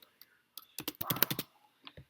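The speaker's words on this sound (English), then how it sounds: "So now we're going to type in void setup" Code is typed on a computer keyboard for an Arduino project as a quick, close burst of clicking keystrokes, clustered in the middle and trailing off, in an otherwise quiet room.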